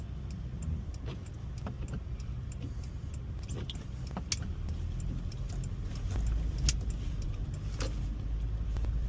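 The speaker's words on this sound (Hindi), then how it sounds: "Oh, the car is slipping." Car driving slowly on a snowy road during a November snowstorm in Calgary, with a steady low engine and road rumble throughout, occasional faint clicks and taps over it, and no one talking.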